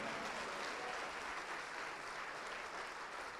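Sustained congregational applause during an evangelical church altar call, an even, continuous wash of many hands clapping at steady volume with no break.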